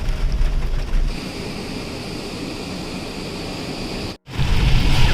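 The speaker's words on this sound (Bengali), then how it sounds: "সমুদ্র পুরো উত্তাল।" Rough, churning sea during a flood storm in Oman, a loud continuous roar of surf and wind noise that swells near the start, cuts out for a split second near the end, then resumes; no one talks.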